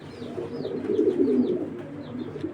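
Red checker racing pigeon cooing in low, continuous murmuring rolls, close and steady, with faint chirps from other birds higher up.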